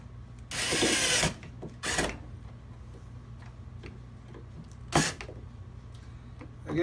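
A power screwdriver drives screws holding a plastic PC board inside a floor monitor speaker, with three close whirring bursts, the first longer, separated by quiet ticks and clicks.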